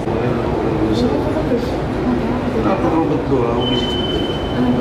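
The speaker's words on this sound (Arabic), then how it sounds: "ما هو ده المترو اللي بقول لكم عليه" A Paris metro train rolls past, loud and close, with a continuous rumble, clattering wheels and a thin squeal, while people talk nearby.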